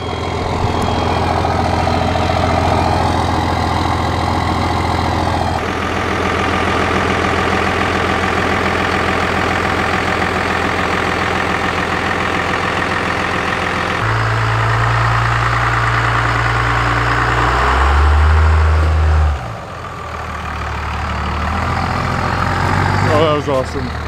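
Cummins diesel pickup truck engine idling and driving, a steady low rumble throughout with a deeper, heavier surge partway through, while people talk over it.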